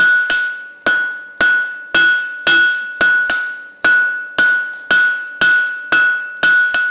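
A blacksmith strikes hot steel while forging a taper, giving a regular series of about a dozen loud, ringing hammer blows, each with a bright metallic ring from the anvil that decays before the next strike.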